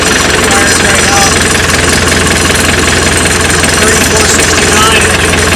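The 86 HP CAT diesel engine of a 2004 Morbark Model 12 Blizzard wood chipper idles loudly and steadily close by, a constant low rumble with a faint knocking rhythm throughout.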